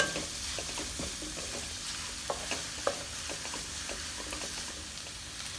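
Onions sauté in oil with cinnamon, cardamom and cloves, a steady sizzle broken by repeated close stirring clicks and scrapes of a spoon against the pan, with no voices.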